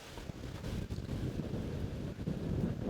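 Steady wind buffeting the microphone on an open disc golf course during a tournament final round, a continuous low rumbling roar with no talk.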